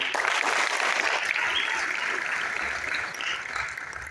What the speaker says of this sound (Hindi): उनके लिए ताली